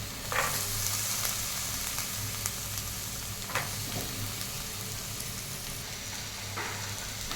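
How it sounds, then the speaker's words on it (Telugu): Carrot, capsicum, green peas, cabbage and spring onions frying in a pan for ragi vegetable soup: a steady, fairly loud sizzling hiss throughout, broken by a few brief stirring scrapes, with no voices. "స్ప్రింగ్ ఆనియన్స్ ఇవన్నీ వేసి బాగా ఫ్రై చేయాలి."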